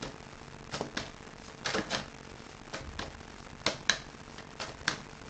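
Oracle cards are shuffled in quick, crisp bursts of riffling and tapping, close by and quiet, with short pauses between bursts.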